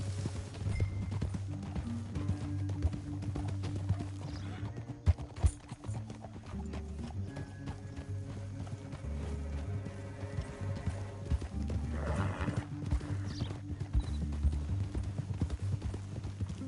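Horses gallop in the Red Dead Redemption 2 video game, hooves clip-clopping in a fast steady rhythm over rumbling ground and a background score, with a brief whinny.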